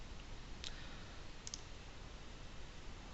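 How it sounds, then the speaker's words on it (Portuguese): A single sharp mouse click selects the OK button in a digital signature program on a quiet computer, with a soft second tick shortly after and faint background hiss. "clique em OK."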